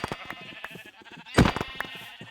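Minecraft sheep bleating in the video game, a couple of short bleats over busy game sounds with one louder burst near the middle.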